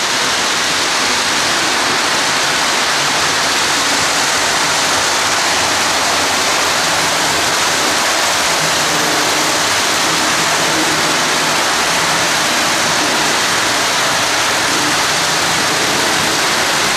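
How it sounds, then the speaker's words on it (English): Steady rain falls at Folkston, a loud and unbroken hiss that stays even from start to finish with no voices. "With clouds gathering and rain droplets dropping, we moved under the cover of shelter into the Folkston Railroad Museum."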